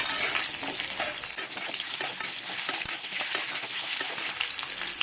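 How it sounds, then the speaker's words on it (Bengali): Potatoes and vegetable stalks frying in a pan give a steady, close sizzle with stirring scrapes, continuous and unbroken, with no voice. "ডাঁটা দিয়ে একটু ভেজে নেব আমি।"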